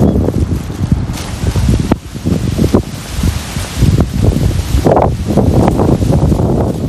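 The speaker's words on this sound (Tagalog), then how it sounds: "Mahangin, medyo malamig pa rin." Strong wind gusts buffet the microphone outdoors at midday on a cool, breezy walk, with a loud, continuous roar, rustling and sudden surges throughout.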